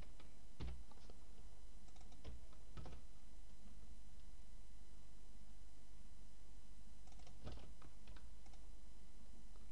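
Typing code on a computer keyboard, a few short bursts of clicking keystrokes separated by quiet pauses, close and clear against a steady background hiss, no talking.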